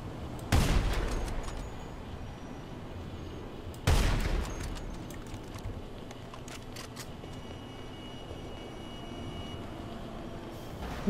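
Gunfire in GTA 5 Online: two sharp, loud shots a few seconds apart, followed by scattered fainter pops and a low rumbling background, with no talk.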